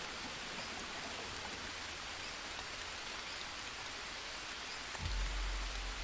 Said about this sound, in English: Since it's raining again